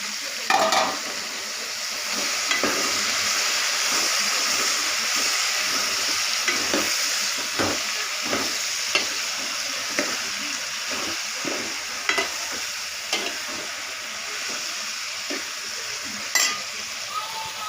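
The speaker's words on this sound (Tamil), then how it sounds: "இப்போது காய்கறிலாம் நல்லா வதங்கிடுச்சு ஸோ தக்காளி போட்டுக்கலாம்" Tomatoes tossed into sautéed vegetables frying in a pan for a dried-fish and eggplant curry make a loud, continuous sizzle. Repeated clinks and scrapes of stirring sound through it, with no talk.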